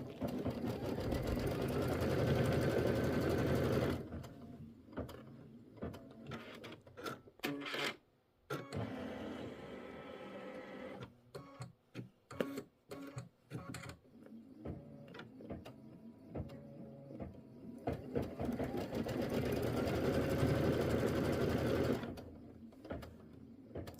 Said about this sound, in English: Now it's going to stitch.